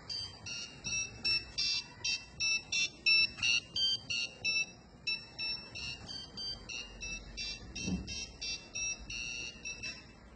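An Arduino-driven piezo buzzer beeps out a rapid sequence of high electronic piano tones, like a simple melody, each note short and shrill, with a few pauses between phrases.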